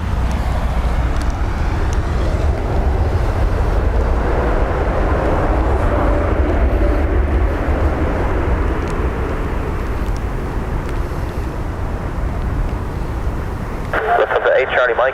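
Jet airliner landing at Dublin Airport in a stormy crosswind, a loud steady roar of engines and wind-buffeted rumble filling the scene throughout, easing slightly near the end as a brief radio-like burst cuts in.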